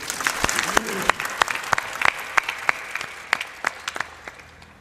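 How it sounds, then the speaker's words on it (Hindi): An audience at a Hindu spiritual discourse (satsang) claps steadily, with many sharp, uneven claps, some louder and close by, over a soft crowd murmur. "ताली बजा दो"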